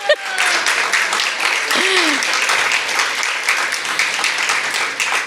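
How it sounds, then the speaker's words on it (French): Sustained applause from a gala audience at a regional library network awards evening, steady dense clapping filling the room, with faint voices mixed in. "Ah, vous pouvez applaudir."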